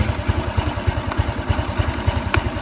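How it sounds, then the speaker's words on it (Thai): A Honda 110i motorcycle engine idles with one battery terminal disconnected, putting along in an even, close, steady rhythm of low thumping pulses. "เมื่อเราถอดขั้วแบบออก เครื่องยนต์ก็ยังทำงานได้ ปกติอยู่นะครับ"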